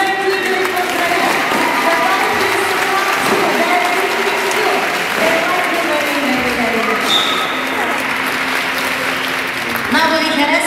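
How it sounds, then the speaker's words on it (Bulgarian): An audience applauds at a dolphin show, dense continuous clapping that goes on throughout, with a voice speaking and some faint squeaky tones over it. "Време е вече да ви върнат комплименти от аплодисменти и да ви поздравя."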